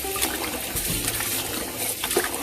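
Water draining from rice through a strainer at a kitchen sink, a continuous splashing trickle and pour with small irregular spatters, fairly close and alone.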